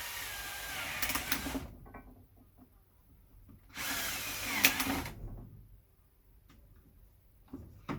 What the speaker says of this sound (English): drill on exactly the same spots